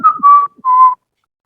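A person whistles three short, clear tones with short gaps between them, close and loud, imitating a grandfather's whistling.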